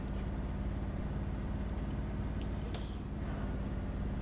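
A truck engine in Euro Truck Simulator 2 drones loud and steady at its rev limiter, a dense low rumble with a faint high whine running over it.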